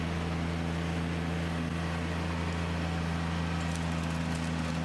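A diesel tractor runs a Woodmaxx SB48 snowblower through deep snow, its engine holding a constant, even drone with a pronounced low hum, fairly quiet and uninterrupted.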